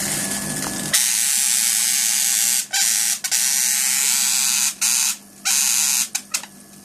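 A variac feeding a small IGBT ZVS driver gives off a loud electrical buzz with a steady low hum, broken by several short dropouts as the load switches on and off.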